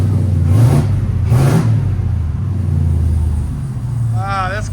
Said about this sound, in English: So this is valves closed, guys. Go ahead. Give it gas.